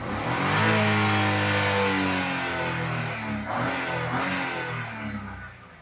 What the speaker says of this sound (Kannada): ಗಾಡಿ ರೇಸ್ ಮಾಡ್ತೀನಿ ನೋಡ್ರಿ ಸರ್.